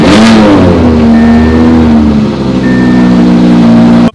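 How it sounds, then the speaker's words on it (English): A van's rear-mounted engine cold-starting, catching with a rough burst and then revving hard in a loud, close, steady roar for about four seconds before cutting off. "For that cold start"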